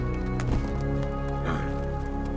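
Steady hoofbeats clip-clop along at a trotting rhythm, mixed with a sustained musical drone and a couple of soft swells.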